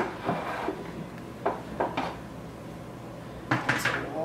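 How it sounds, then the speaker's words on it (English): Ground beef is scooped into a pot for chili, heard as several light clinks and scrapes of a utensil against cookware, scattered and fairly close, without talk. "If you want to take that, scoop it into the pot."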